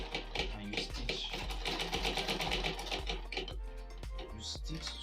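A sewing machine stitches a beaded bag in rapid rhythmic bursts of clacking needle strokes, loud and close, slowing briefly near the end, with a voice speaking over the machine.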